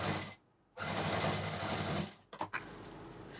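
A sewing machine stitches the lining of a party purse. It whirs in a close, steady run, stops briefly, then gives a few short bursts before running steadily again.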